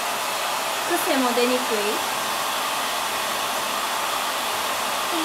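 A hair dryer blows steadily and loudly close by throughout, drying hair section by section, while someone speaks briefly over it near the start.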